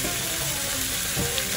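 Onion dropped into a hot pan for Egyptian-style braised oxtail, giving a steady close sizzle with a louder burst near the end.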